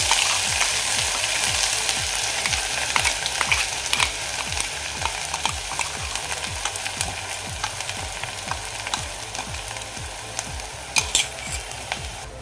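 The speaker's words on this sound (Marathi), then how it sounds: "आता आपण हे व्यवस्थित असं मिक्स करून घेऊया व्यवस्थित असं फ्राय करून घेऊया" Ground masala paste fries and sizzles in a pan over a low flame for golyachi aamti, with a steady crackling hiss and repeated scraping stirs from a spoon throughout, close and fairly loud.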